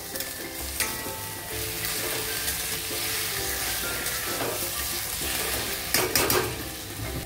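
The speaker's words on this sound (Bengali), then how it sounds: "অ্যাড করে দিয়ে চিকেনটাও আমি একটু কষিয়ে নেবো ভালো করে।" Boiled chicken fries with ginger garlic paste in a pan over a raised gas flame for chicken yakhni pulao, a loud continuous sizzle with occasional stirring scrapes against the pan.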